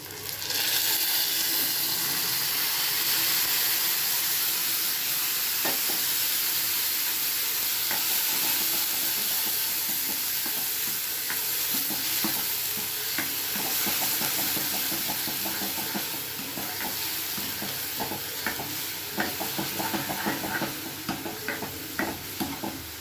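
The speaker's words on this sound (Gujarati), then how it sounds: "હવે એમાં નાખીશું આપણે દહીં" Yogurt goes into a sizzling pan for Kathiyawadi dahi vaghari, producing a constant loud hissing sizzle with steam, overlaid by frequent scraping and tapping stir strokes, close up and without speech.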